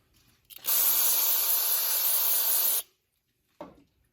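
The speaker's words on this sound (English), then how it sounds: "Spray it with some brake clean." A loud aerosol can of brake cleaner hisses in one continuous burst of about two seconds, then stops, followed by a short scrape.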